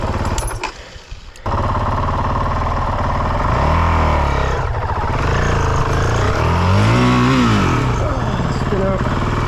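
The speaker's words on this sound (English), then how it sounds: "Oh, there's a burnout." A vehicle does a burnout nearby: a loud, sustained engine roar with rising and falling revs and tire-spinning grind that holds steady for several seconds after a brief quieter start.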